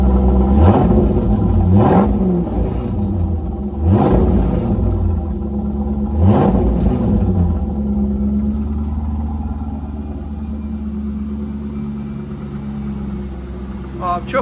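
A Corvette C5 with a manual gearbox, fitted with a replacement ECU, runs close by and revs several times. Each rev rises and falls sharply before the engine settles into a steady, rumbling idle.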